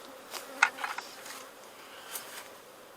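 Honey bees crowd a hive's brood chamber, giving off a soft, close buzz that swells briefly a couple of times over a faint steady hum.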